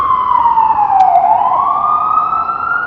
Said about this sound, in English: here comes an ambulance and they can't get through